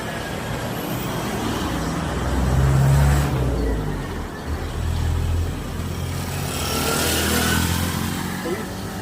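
Heavy road traffic surrounds the listener with a loud, continuous rumble of car, truck and motorbike engines, swelling as vehicles pass close by.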